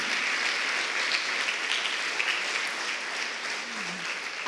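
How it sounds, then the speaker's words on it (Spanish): A church congregation applauds together, a steady, dense wash of many hands clapping that holds at an even level throughout. "Démosle un aplauso a Jesús por cada líder de reunión de salvación"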